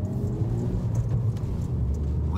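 Steady low rumble of a Citroën DS3 Performance Line turbo engine heard from inside the car, a constant loud drone with road hum and no talking.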